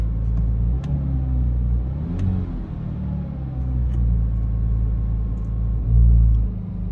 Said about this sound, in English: And I'll just step on the gas a little bit so you can hear it.